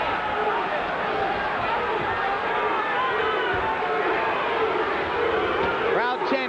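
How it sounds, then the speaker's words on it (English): Boxing arena crowd during a heavyweight bout, a dense roar of voices with rhythmic chanting of a fighter's name, steady and loud throughout, a few higher shouts near the end. "Crowd chanting Duke, Duke, Duke"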